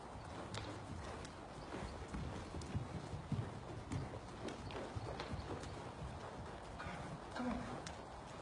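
A horse named Bob trots around an arena, its hooves beating a steady clip-clop rhythm that sits faintly under low background noise.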